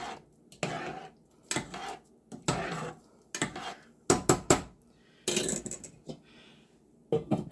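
Trinidadian style dhal is stirred and mixed in a pot, with a series of irregular scraping and clinking strokes of a utensil against the pot, spaced bursts separated by short pauses.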